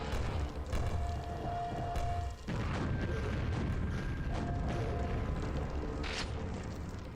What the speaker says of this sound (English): Love me a good old rocket launcher.